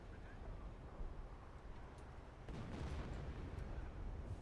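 Distant, rumbling Nebelwerfer rocket artillery fire in Company of Heroes, a low booming wash that grows heavier halfway through, with a few sharper crack-like impacts over steady battlefield noise.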